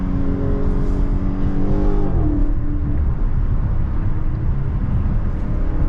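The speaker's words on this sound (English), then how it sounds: "I'm about to just burn this shit, give y'all downshifts." A 2023 Dodge Charger SRT 392 Last Call V8 revving and downshifting, heard from inside with the rear windows down: a loud, continuous engine roar whose pitch falls sharply in a downshift, then a deep steady rumble.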